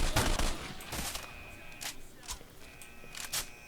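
Gunfire in the video game S.T.A.L.K.E.R.: Shadow of Chernobyl gives sharp, scattered bursts of shots that come close and loud at first, then trail off into irregular distant cracks against a busy background.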